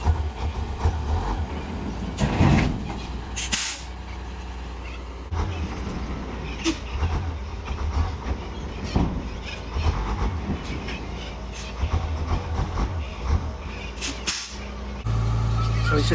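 A truck drives out with a hard lock while moving a shipping container, its engine rumbling under scattered hisses of air brakes and clunks, with someone talking over it.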